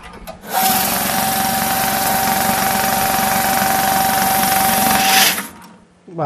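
A bill counter machine whirs steadily at close range for about five seconds while riffling through a stack of banknotes, then stops abruptly. A brief click follows at the end.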